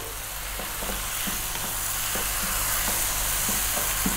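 Chicken breast sautéing in oil in a pan, a steady close sizzle with soft periodic stirring scrapes every half second or so, no talk.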